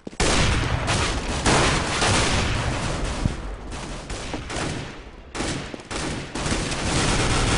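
Dense, loud gunfire from the shooter game CS:GO in a 5v5 match, rapid overlapping shots and bursts filling the whole stretch with only a brief dip.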